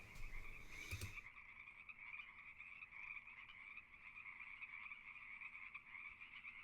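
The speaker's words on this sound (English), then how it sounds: "So we hear toads and stuff like this." Toads near a pond croak in a continuous trilling chorus, faint and distant-sounding, with a brief thump near the start and no talking.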